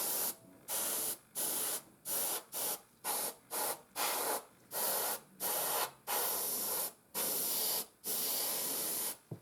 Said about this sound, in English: you want to just like spray air through your airbrush